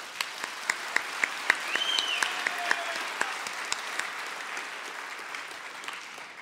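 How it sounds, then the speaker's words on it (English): Audience applause at a live songs-and-stories show, sharp individual claps standing out over a steady wash of clapping that fades gradually, with a brief whistle near the start. "So in absentia, let's give them a round of applause."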